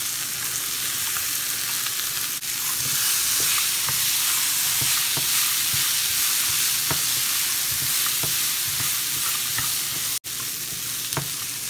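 Spices fry in a pan for a brinjal and green pea curry, and half-boiled green peas go in. A steady close sizzle carries light stirring scrapes throughout, with no talking.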